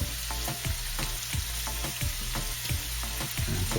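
Beef searing with onions frying in a pan for a cheesesteak, a steady dense sizzle with frequent clanks and scrapes of stirring, close and continuous with no voices.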